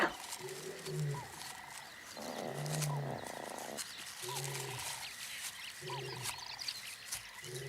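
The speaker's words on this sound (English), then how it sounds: "The lioness hears his call from a distance and heads towards it." A male lion in the wild gives a series of deep, moaning roaring calls. The calls are repeated at roughly regular intervals and heard at moderate distance against a quiet outdoor background.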